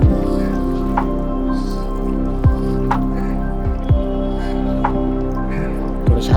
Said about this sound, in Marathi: जरा असं पाणी पायावर घेतलं.